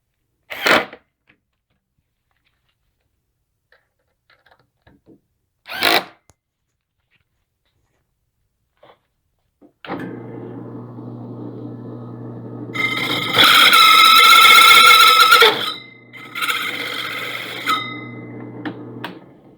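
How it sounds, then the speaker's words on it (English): A couple of sharp knocks, then a drill press motor starts and hums steadily, with a louder grinding cut from a hole saw rising over it before the whine fades. "I'll take it over to the drill press, and I'll use the hole saw again to remove that flash."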